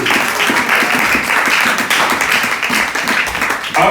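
A church congregation at a Sunday service applauds steadily for a few seconds, a dense, loud wash of many hands clapping close up with no voices over it.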